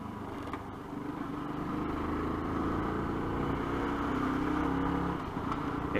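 Moped engine and exhaust droning steadily throughout a ride, loud and close with a slight rise in pitch midway, no talking.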